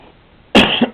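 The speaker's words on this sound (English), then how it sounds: "Sorry for coughing there." A single sharp cough, close and loud, bursting out after a quiet moment with a brief second push at its tail.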